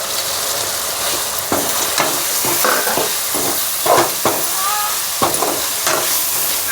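Meat curry frying in a pan in a village kitchen, a loud, dense, steamy sizzle with repeated scraping stirs and occasional hissing bursts, close by and unbroken by talk.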